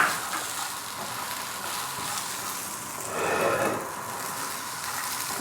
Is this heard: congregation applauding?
no